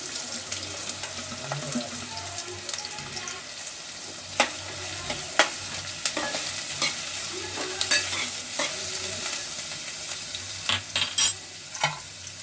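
Onion pieces drop into hot oil for a curry and sizzle steadily in the pan, broken by clinking stirring and spoon knocks that grow sharper toward the end.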